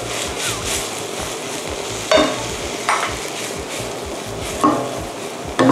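Kaiware sprouts and shiitake mushrooms stir-fry in a wok with a steady sizzle, broken by a few sharp scraping stirs of the spatula against the pan.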